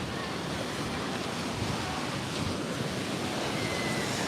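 Strong wind on a beach in Puerto Rico, a dense continuous roar buffeting the microphone with surf rushing beneath it, loud and unbroken from start to finish.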